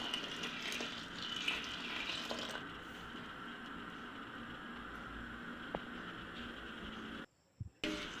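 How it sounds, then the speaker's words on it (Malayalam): Previously boiled milk is poured into Sadya-style palpayasam (sweet rice milk pudding): a steady, soft liquid flow for a couple of seconds that then fades into a quieter, fainter stream. "ഇനി നമുക്ക് ഇതിലേക്ക് നേരത്തെ തിളപ്പിച്ച് വെച്ച പാൽ ചേർക്കാം"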